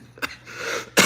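A person with a cold gives a short throat-clearing cough, then another harsher cough a moment later, close to the microphone with no talking.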